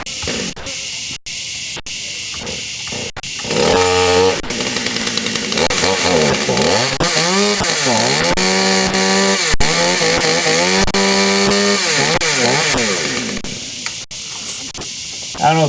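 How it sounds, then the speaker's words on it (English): A chainsaw is warmed up before tree work at a climbing competition, starting with a few sharp pulls and ticks, then revving loudly in repeated rising and falling bursts close to the microphone before easing back to idle. "I love to hear chainsaws running"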